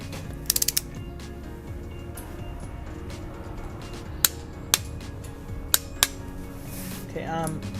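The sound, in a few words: ratchet torquing spark plugs on a 300ZX engine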